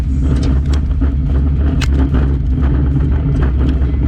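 Gravel pattering and rattling against the underbody of a Toyota Landcruiser 70 Series on the dirt Oodnadatta Track, a dense irregular clatter of stone strikes over a steady low road rumble, heard from inside the moving vehicle.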